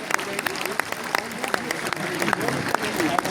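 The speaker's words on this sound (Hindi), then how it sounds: "एक बार अपने इन वीर सपूतों के लिए जोरदार तालियां" Audience applause for war heroes, including a Param Vir Chakra recipient, at a Greenfield Academy event in India: steady clapping with sharp individual claps standing out, mixed with voices.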